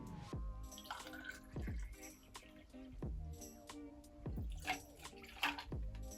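Two ounces of vodka are poured over ice for a mixed drink, giving a faint, close trickle of liquid with several soft drips and clinks.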